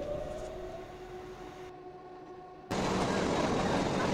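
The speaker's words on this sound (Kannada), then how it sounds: "ಸೊ ಟ್ರೈನ್ ಇವಾಗ ನೀಲಗಿರಿ ಮೌಂಟೈನ್ಸ್ ಮಧ್ಯೆ ಹೋಗ್ತಾ ಇದೆ." Nilgiri mountain train running through the mountains, a steady rolling rumble with a faint tonal hum, then a sudden louder roar of wheels and wind partway through.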